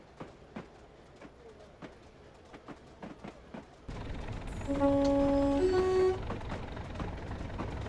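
A train in the Train Simulator 2016 game departs North Road station on the Durham to Darlington route; faint clicks give way to a rising engine rumble, with a short two-tone horn toot and a hiss in the middle.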